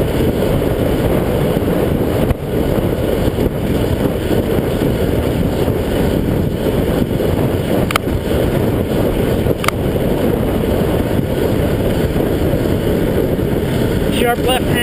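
Wind roars and buffets steadily against the microphone the whole time as a Cannondale F4000sl mountain bike descends into a stiff headwind. The noise stays loud and even, with only small dips.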